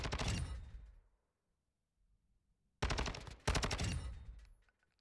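Automatic STB rifle fire in Call of Duty MWII, a loud close burst that trails off, a second of near silence, then two more sustained bursts of rapid shots.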